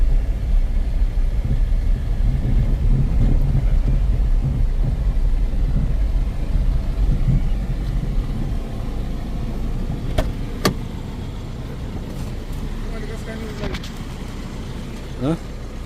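A car or light road vehicle rumbles steadily past at close range, its engine noise broad and continuous before easing slightly toward the end, with a few faint tonal chirps and speech-like sounds in the background.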